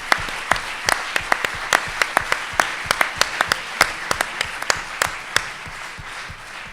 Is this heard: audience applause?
yes